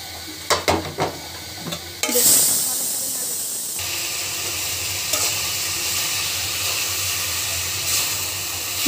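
Spices are dropped into a hot pan and burst into a loud, steady sizzle and hiss that begins abruptly after a few light clinks and carries on evenly to the end.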